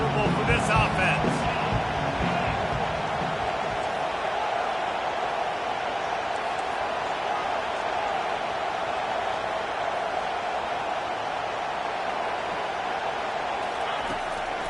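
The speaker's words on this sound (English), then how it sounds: "This crowd trying to make life miserable for this offense." A stadium crowd at an LSU at Miami football game holds a loud, steady roar throughout, with a commentator talking over it.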